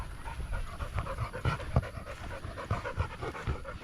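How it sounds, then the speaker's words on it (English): A dog panting steadily and close by during a walk through a countryside village at sunset, with rapid rhythmic breaths carrying on without pause and no talk over them. "Bloody panting away, Ginge."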